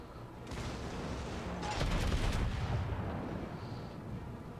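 Battleship gun turrets firing in the naval game World of Warships, two heavy booming salvos about a second apart, the second louder and longer, each fading into a low rumbling tail.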